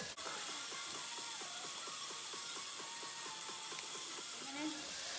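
Turkey burger patty sizzling in a hot frying pan, a steady, dense hiss with faint crackles running unbroken throughout, close and fairly quiet.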